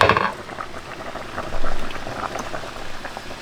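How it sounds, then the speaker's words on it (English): Pasta water at a rolling boil in a pot, a dense bubbling and popping hiss that stays close and steady throughout, with no talk. "It's boiling"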